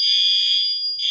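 A fire alarm under test shrieks with a loud, piercing, continuous high electronic tone that holds steady throughout the short burst, with no talking.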